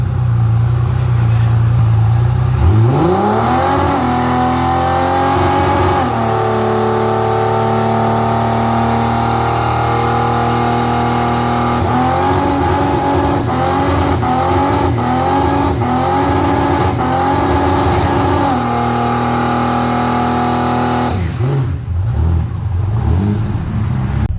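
A car being tuned in preparation for a Powercruise event, heard up close and loud: idle, then the engine revs and holds high with quick throttle blips before dropping back near the end.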